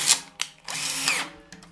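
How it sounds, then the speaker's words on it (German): A power drill spins a Remo drum tuning key in short bursts, with a high whirring whine that starts, stops and restarts over a couple of seconds, close and fairly loud, with no talking. "andererseits kann man den sehr einfach in eine Bohrmaschine einspannen"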